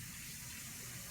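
Water runs steadily into a container to rinse out chicken soup residue stuck to the bottom, a continuous gushing pour close by with no talking.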